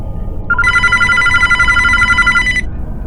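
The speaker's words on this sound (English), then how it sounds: "It was the landline." A landline telephone bell rings in one sustained burst of about two seconds, loud and close, with a bright trilling tone over a low background hum.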